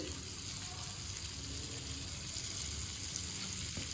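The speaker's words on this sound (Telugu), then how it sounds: "ఆనియన్స్ కూడా అలా ఫ్రై చేయండి కొద్దిసేపు" Garlic and onions frying in a pan, giving a soft, steady sizzle throughout, fairly quiet and close, with no talking.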